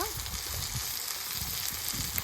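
Turmeric, green chilies and spices frying in a pan, with a steady, close, dense sizzle running throughout.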